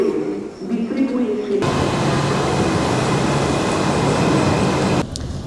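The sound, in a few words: train ride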